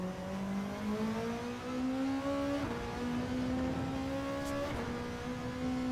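VW Beetle Gr.3 race car in Gran Turismo 7, its engine note climbing steadily under hard acceleration through the gears, with two quick upshifts breaking the rising whine; loud, close and continuous, no talk.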